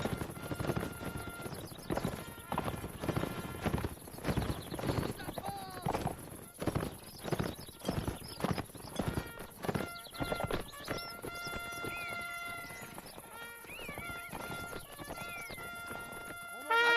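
Hooves clip-clop steadily in a Mount & Blade Napoleonic Wars siege battle, with horse whinnies and game noise layered on top; the hoofbeats thin out in the second half as other tones take over.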